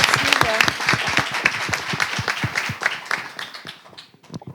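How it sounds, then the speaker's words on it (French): Audience applause for a speaker at a business school talk event, with distinct, fairly close claps in a brisk irregular rhythm that gradually thin out and fade toward the end. "On va applaudir pour elle pour que ça la motive"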